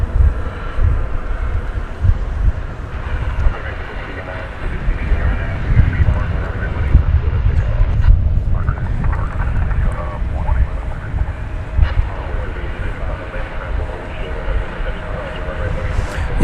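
American Airlines flight 1679, an airliner, sends a steady, loud jet roar across DFW Airport at night, rumbling without a break the whole time.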